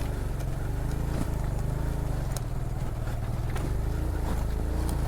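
A motorbike rides over a rocky mountain path on the way to Saif ul Malook lake, its engine droning steadily and loud, with scattered knocks and rattles from the rough stones.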